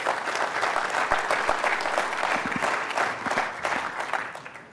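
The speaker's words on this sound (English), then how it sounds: "Enjoy. Give him a hand." Conference audience applauding a speaker being introduced at a Shmoocon security talk, a dense steady wash of clapping hands from a large crowd that fades slightly toward the end.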